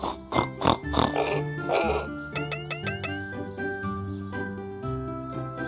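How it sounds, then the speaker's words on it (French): A few short grunting oinks from a cartoon pig up front, followed by bright tinkling music tones with a steady backing melody. "Le cochon fait."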